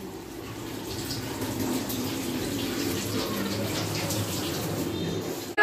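Water being strained off at a rooftop family picnic, a steady close pouring gush lasting several seconds, ending with a short knock.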